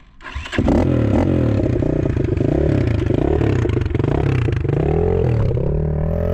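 A Derbi Senda motorcycle engine starts and then revs steadily, loud and close, its pitch rising and falling with the throttle over a rattly idle.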